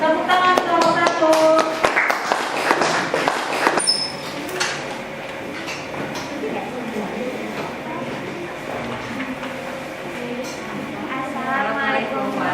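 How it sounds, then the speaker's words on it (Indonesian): Scattered clapping from a small classroom audience for a presenting group, a few seconds of uneven claps near the start, then fading into a murmur of room noise and voices. "Tepuk tangan kelompok 1."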